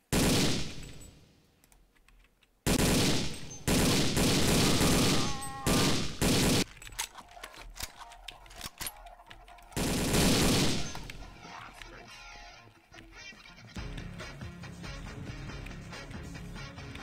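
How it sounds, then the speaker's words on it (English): Gunfire in the video game Boiling Point: Road to Hell, heavy sustained automatic bursts, loud and close, broken by short pauses and a few sharp single shots, with lighter crackling fire trailing off at the end. "I don't even understand where they're shooting from."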